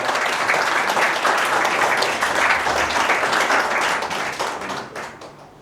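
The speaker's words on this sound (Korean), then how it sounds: "큰 박수로 맞이해 주시기 바랍니다" Audience applause greets a mayoral candidate at a Namyangju campaign announcement event, a dense, steady burst of many hands clapping that holds loud for about four seconds before tapering off.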